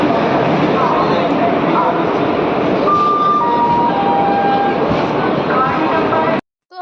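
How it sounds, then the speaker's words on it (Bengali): A train pulls into a station with a loud continuous rumble and rolling noise, faint squealing tones rising above it, before the sound cuts off abruptly near the end. "ট্রেন এসে গেছে।"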